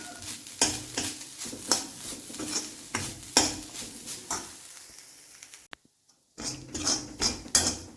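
Fennel seeds and black pepper rattle and scrape as they dry-roast in a hot pan while a spatula stirs them in repeated strokes, with a faint sizzle and a short silent gap.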